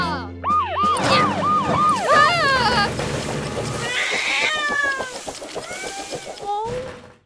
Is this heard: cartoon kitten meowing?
yes